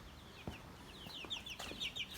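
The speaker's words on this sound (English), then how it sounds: "Last thing we need to check on is the meat birds." Meat chickens give soft scattered clucks and chirps in a farm livestock pen, faint and somewhat distant with light background noise and a few small knocks.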